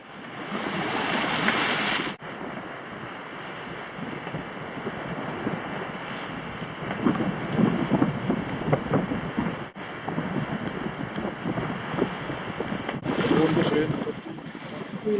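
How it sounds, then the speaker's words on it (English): Water gurgles and rushes along the hull of a sailboat under way on an ocean passage, a continuous washing swirl with swells of louder splashing, mixed with wind buffeting the microphone. "We love that gurgling sound."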